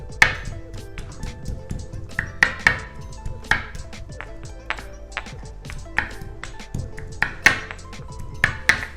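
A small kitchen tool mincing garlic makes sharp, irregular clicks and chopping taps, with light metallic pings ringing close by, and no talk.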